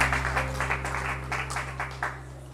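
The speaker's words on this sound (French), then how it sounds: "Sous vos applaudissements. On applaudit, on applaudit" Audience clapping at a school prize-giving ceremony for top pupils, a moderate patter of hands over a low electrical hum, rising and falling in uneven bursts.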